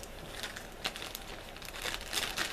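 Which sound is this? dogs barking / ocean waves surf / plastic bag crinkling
plastic bag crinkling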